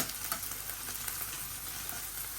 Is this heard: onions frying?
yes